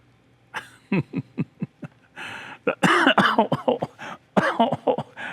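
Several short bursts of coughing mixed with throat clearing and laughter, loud and close, coming in quick irregular clusters.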